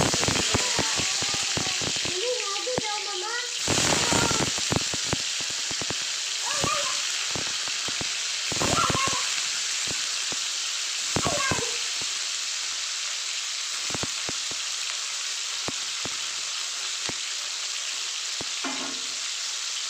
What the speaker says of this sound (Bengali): পনিরগুলোকে ভেজে নেব একটু হলুদ আর একটু লঙ্কার গুঁড়ো দিয়ে